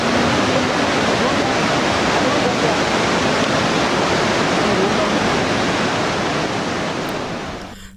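Rushing river water flowing below a rugged, rocky mountain path near Badrinath, a loud, steady, unbroken roar that holds for the whole stretch before easing at the very end.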